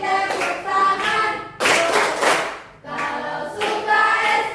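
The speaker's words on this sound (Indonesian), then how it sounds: "Kalau suka SKI tepuk tangan." A group of students in an Islamic cultural history classroom clap their hands in rhythmic bursts, loud and close, with short pauses between rounds of clapping.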